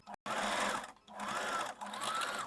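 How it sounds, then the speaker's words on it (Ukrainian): Sewing machine running a straight stitch along the band seam of a bra, overlapping the earlier seam joining the band to the back; close, steady motor whir in three bursts separated by brief pauses. "І тепер я прокладаю пряму строчку так, щоб перекрити ось цю строчку пришивання поясу до спинки."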